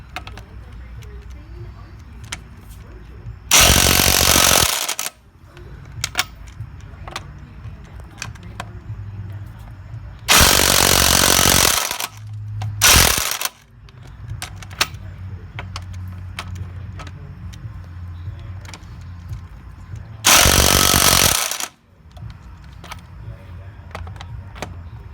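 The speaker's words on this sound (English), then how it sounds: "he's going to run it until it stops. The impact wrench will stop, and you will see that." An impact wrench tightens the wheel lug nuts on a car in a crisscross pattern, firing in four loud, harsh bursts of one to two seconds each, separated by a lower background hum, with people talking between the bursts.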